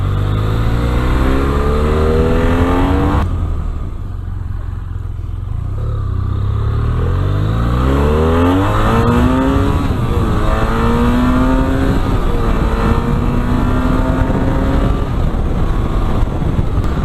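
A BMW F 800 R motorcycle accelerating hard, its engine loud and close, revs climbing and falling through repeated pulls with a brief dip before rising again over wind noise.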